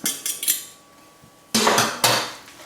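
Utensil clattering against a bowl while cooled ramen noodles are mixed into beaten egg: a few quick metallic clinks, then two louder bursts of scraping and knocking, close and without talk.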